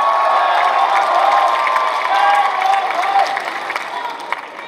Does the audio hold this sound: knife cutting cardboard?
no